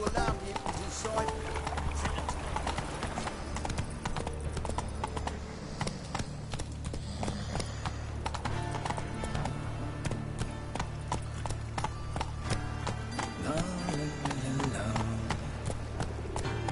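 In a video game, a ridden horse's hooves clip-clop in a steady, fast rhythm, continuing throughout under dense game ambience and background sound.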